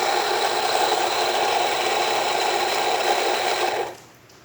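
A Rancilio Rocky coffee grinder set coarse grinds beans with a steady, loud motor whir and rattling burr buzz, running continuously for about four seconds before abruptly cutting off.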